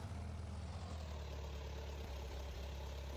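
A tractor engine idling in the Farming Simulator game, a steady low rumbling drone that stays even and fairly quiet throughout.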